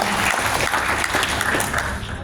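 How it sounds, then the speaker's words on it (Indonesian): A crowd at the Depok mayor's address during an iftar gathering breaks into sustained applause, a loud, dense wash of clapping that stays even before easing slightly near the end. "Jadi tepuk tangan sekali lagi buat"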